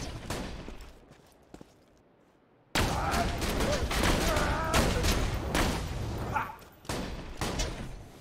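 Gunfire in the Borderlands 2 video game: a quieter stretch with a few isolated shots, then a sudden dense burst of rapid, loud shooting and impacts that continues nearly unbroken to the end.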